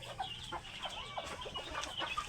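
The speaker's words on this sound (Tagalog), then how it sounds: "Magpapatuka muna tayo ng mga manok natin." Backyard chickens cluck and chatter busily at close range while being fed, a dense overlapping flock of short calls and squawks with no talking.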